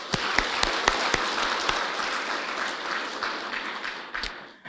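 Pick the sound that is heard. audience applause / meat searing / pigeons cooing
audience applause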